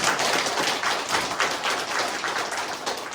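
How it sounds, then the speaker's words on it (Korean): A church congregation at a Sunday morning service claps together in a dense, steady round of applause, with no voices rising above it. "우리 박수 한번 쳐드릴까요?"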